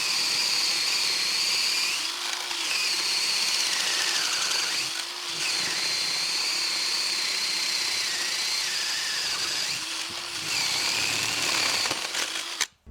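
Ryobi cordless drill with a 1-inch bit boring holes into treated 4x6 lumber: a loud, high-pitched motor whine runs steadily, briefly dipping and straining several times as the bit bites, then stops abruptly at the end.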